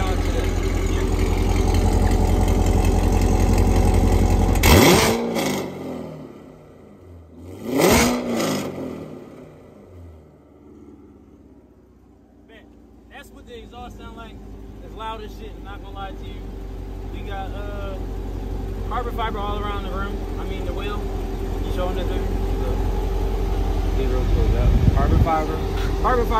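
A Corvette engine idles with a deep exhaust rumble, revved sharply twice in loud bursts, then settles back to a steady idle while a voice talks faintly over it.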